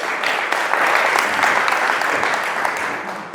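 An audience at a networking event breaks into steady applause, a full, even wash of clapping hands that holds for several seconds before easing off slightly at the end.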